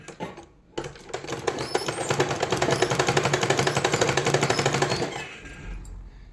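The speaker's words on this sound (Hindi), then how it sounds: "फिनिशिंग के साथ में यहाँ पे सिलाई लगा लेंगे" A sewing machine stitches a lined blouse in one continuous run of rapid, rattling needle strokes lasting about four seconds, close and loud, starting after a brief pause and ending abruptly.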